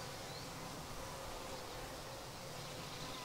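A steady, dense buzz of many honey bees swarming around an opened hive with a capped queen cell, continuous and even throughout with no talking.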